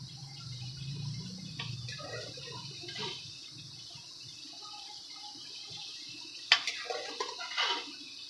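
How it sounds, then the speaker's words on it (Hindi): Boiled chickpeas tipped into a simmering gravy give soft wet plops and liquid sloshing, faint and close, with a sharper splash of additions toward the end. "अब इसके अंदर हम चने ऐड करेंगे जो मैंने बॉईल करके अच्छे तरीके से रखे हुए हैं"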